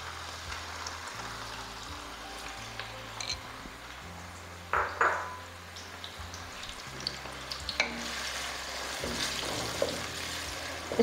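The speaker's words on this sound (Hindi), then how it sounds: "इसमें डाल दूँगी मैं ये प्याज" Chopped onions sizzle in a cup of hot oil in a home kitchen pot for meat and cauliflower curry, a steady close crackle with a brief louder hiss around the middle and faint utensil clinks.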